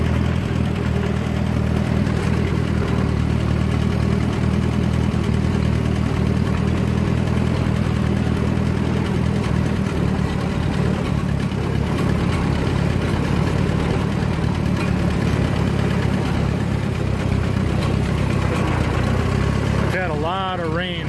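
A tractor engine runs steadily in second gear on a slow hill climb, a loud, continuous low drone that stays close throughout.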